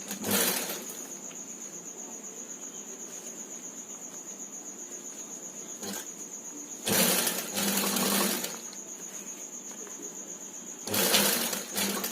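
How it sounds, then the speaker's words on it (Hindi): A sewing machine runs in steady buzzing bursts while stitching a zipper onto a homemade cloth cover for a TV or laptop, with short louder stretches between quieter running. "अब ये चैन को ये इसमें सिलना चालू कर देंगे एक साइड से"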